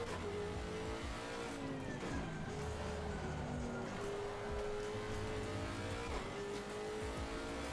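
Engine note of a McLaren race car in the RaceRoom sim racing game, a steady droning whine with shifting pitch as it accelerates and brakes through corners, loud and continuous with faint tire squeal.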